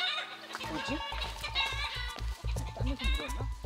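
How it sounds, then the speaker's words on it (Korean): Chickens on a mountain farm cluck noisily and continuously in a close, agitated chorus, while a person briefly speaks over them. "소란스러운 닭 울음소리."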